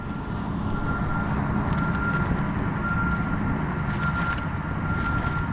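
A wheel loader packs asphalt grindings with a steady, close diesel engine drone and a faint high whine throughout, with light scraping and rattling over the continuous rumble.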